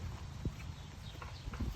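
Horse hooves clopping on the ground of a round pen during groundwork, a few soft, uneven thuds over a steady low background, fairly close, with no voices.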